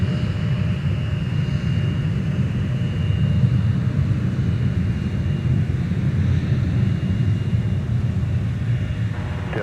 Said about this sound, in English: Delta 2931, 5 runway heading runway 17, clear for takeoff.